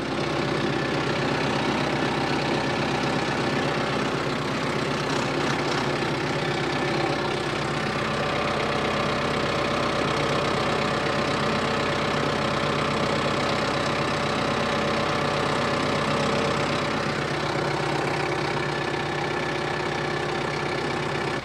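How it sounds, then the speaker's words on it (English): A tractor engine idles on a farm while grapple and accumulator attachments are unloaded, a constant loud, rumbling drone with no change in pace for the whole stretch. "So we're gonna grab our tractor"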